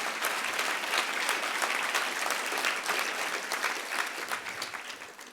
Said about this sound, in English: So may I ask for a huge round of applause for Aaron.